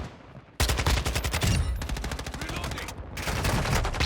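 Rapid automatic gunfire from hip-fire shooting in Warzone 2.0, loud and close, in a dense continuous burst with a short pause and then more sustained shots.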